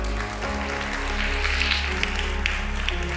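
A church congregation applauding, sustained steady clapping from many hands under a low organ-like drone, with faint voices.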